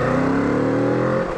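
A 2016 Kawasaki Z650 motorcycle exhaust revving with an angry edge, a loud close steady engine drone holding pitch then easing off, with no talk.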